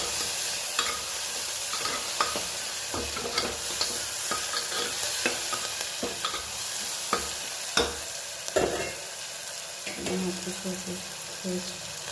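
Ingredients with asafoetida and green chilli are stirred in a frying pan, the spatula scraping in repeated strokes over a continuous sizzle, close and fairly loud.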